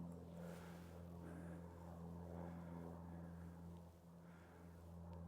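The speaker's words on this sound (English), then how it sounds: "There's like a little spotter plane going along here as well." A small spotter plane droning overhead on a mountain hike, a faint, steady propeller hum that swells and fades slightly against wind.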